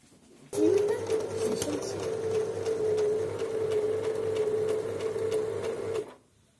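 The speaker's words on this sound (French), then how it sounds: "C'est parti pour la couture." A sewing machine stitching fabric while making a pincushion notebook, a steady close motor whir with rapid needle pulsing that runs for about five seconds and then stops.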